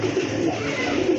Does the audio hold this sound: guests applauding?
no